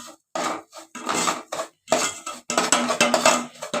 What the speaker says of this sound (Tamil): இதை நல்லா வறுத்துக்கணும்.